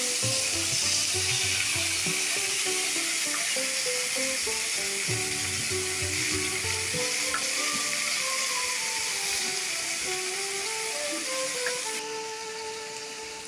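Chopped eggplant and onion for a Bengali fish dish fry in a pan with a dense, continuous sizzle and hiss, heard together with a melodic instrumental music track throughout.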